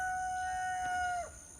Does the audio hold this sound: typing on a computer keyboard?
no